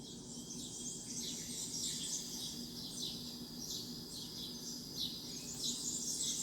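Soft spring bird chirps and twitters repeat in the distance over a quiet outdoor hush, with a faint insect-like buzz underneath.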